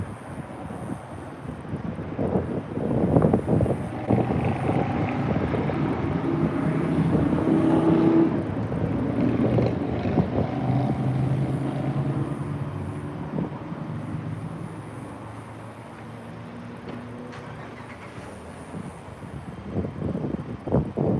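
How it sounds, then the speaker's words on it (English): Strong wind buffets the microphone inside a car driving along a highway, with a steady low roar and gusty rumble that rises and falls over road noise. "Oh, it's windy."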